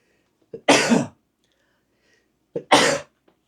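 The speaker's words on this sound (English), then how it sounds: "I have to sneeze, by the way." Two loud sneezes, each preceded by a short sharp inhale, separated by a couple of seconds of near silence.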